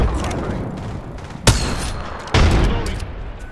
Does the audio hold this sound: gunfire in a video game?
yes